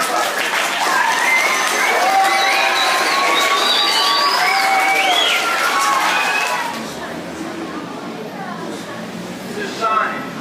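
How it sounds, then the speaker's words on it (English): An audience claps and cheers at an outdoor mural unveiling, dense applause with whoops and voices for about seven seconds before fading into crowd chatter. "Give them a round of applause."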